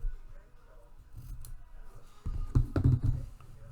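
Scissors snip through fabric, a few quiet crisp cuts building to a louder crunchy cluster of snips near the end, close and alone with no talk.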